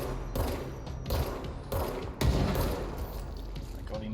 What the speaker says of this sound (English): My god, he missed with that grenade